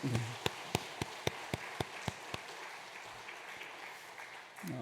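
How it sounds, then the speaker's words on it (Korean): A church congregation applauds teachers at an early-morning all-church prayer service, with a run of sharp, evenly spaced claps standing out over a faint, thin spread of clapping that fades, then swells slightly again at the end. "우리 선생님들 들어가실 때까지 한 번 더 박수 부탁할까요?"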